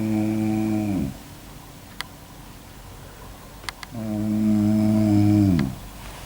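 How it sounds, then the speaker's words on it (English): A person snores loudly and close by in two drawn-out droning breaths separated by a few seconds of quiet, with faint clicks in between. "stop snoring"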